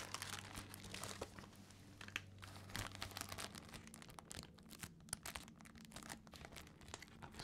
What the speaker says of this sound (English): crinkly wrapper. Just listen to that.